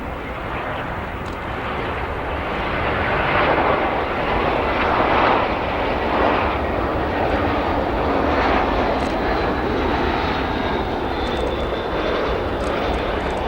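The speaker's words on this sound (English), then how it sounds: "There she goes as she lands on 10 center." A Spirit Airlines Airbus A320 arriving from New Orleans lands on runway 10 Center at Chicago O'Hare, producing a continuous loud, close engine roar that swells gently midway and stays steady throughout, with no voices.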